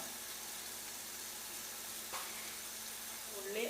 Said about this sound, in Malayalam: ഉള്ളി നന്നായി വഴന്ന് വന്നിട്ടുണ്ട്.